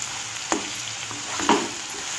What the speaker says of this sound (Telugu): బెరికాయ ముక్కల్ని ఒక 5 నిమిషస్ ఆయిల్ లో వేగనివ్వాలి